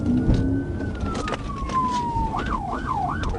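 A police patrol car siren sounds up close during a traffic stop, starting as a long slowly falling wail and then switching to a rapid yelp, over engine and road noise.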